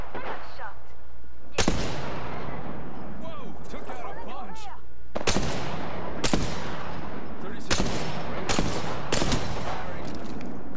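Sharp, loud gunshots ring out in a first-person shooter game, coming as single cracks and short bursts spread unevenly through the clip while a player talks excitedly over them.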